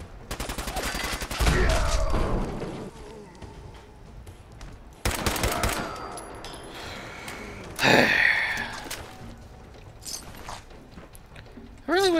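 Fallout 4 game combat with a .50 caliber weapon: a few sharp, loud bursts of gunfire break out at intervals, separated by quieter stretches, with a voice heard in between.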